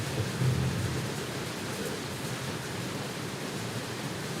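Steady rainstorm with a low rumble of thunder, a dense even wash of rain noise throughout with a brief swell of thunder near the start, heard alone without voices.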